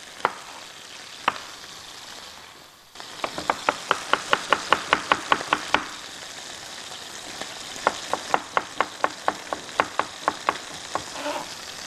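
A knife finely chops onion on a cutting board, with two runs of quick, even, crisp strikes separated by a pause, close and clear with no talking.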